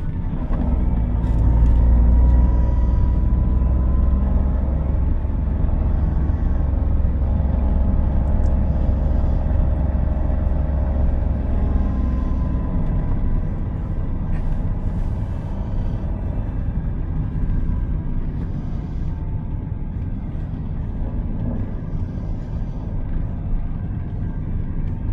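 Steady low engine rumble from a Daihatsu Rocky 1.2 X with manual gearbox climbing an uphill road in Indonesia, video game POV driving, loud and continuous with shifting tonal whine, no talk.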